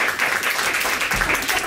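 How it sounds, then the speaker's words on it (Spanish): Audience applause at a community workshop on healthy and safe finances, a short burst of steady clapping from a small group, fairly close and sustained throughout. "Vamos a hacer un aplauso."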